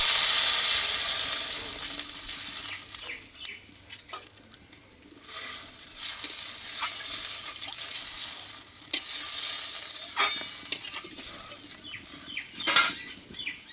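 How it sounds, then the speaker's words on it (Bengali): Water hits a hot pan of frying spice mix with coriander leaves and tilapia fish, making a loud hissing burst that fades. Scattered utensil clinks and stirring noises follow close by. "এইবার এখানে আমি জল দিয়ে দেবো"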